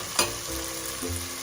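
Chopped green chili is stirred into softened cooked vegetables in a pan, with a soft sizzle, a spoon scrape near the start, and a couple of short low knocks.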